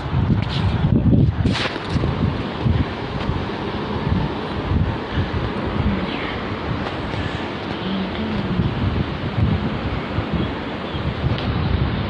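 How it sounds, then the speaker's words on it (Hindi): A strong, stormy wind blows outdoors with a steady, loud buffeting roar against the microphone, and a few sharper gusts come near the start. "बहुत तूफानी तो हवा चल रही है"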